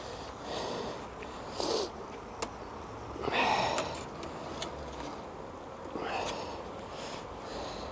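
Honey bees buzz around an opened hive during a spring inspection, a steady hum that swells in a few louder bursts with some handling noise.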